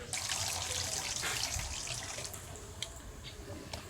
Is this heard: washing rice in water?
yes